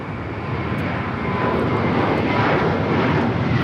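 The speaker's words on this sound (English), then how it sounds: "This JetBlue E321 heading to Fort Lauderdale," A JetBlue A321 jet airliner bound for Fort Lauderdale roars steadily on departure from LAX, a loud, broadband engine rumble that swells slightly and holds close throughout, with no voices.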